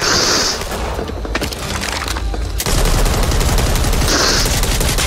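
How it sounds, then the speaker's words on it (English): An AA-12 shotgun fires on full auto in Back 4 Blood, a loud, fast string of close, cracking blasts. A short lull comes midway before another heavy burst. "pick up the AA-12 shotgun and just... Show the viewers a full auto feature on that shotgun."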